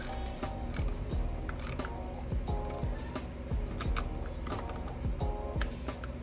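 A ratchet wrench clicks in quick repeated bursts while tightening a fastener during a Z1 Motorsports engine and positive terminal install, sounding close and steady with short pauses between strokes.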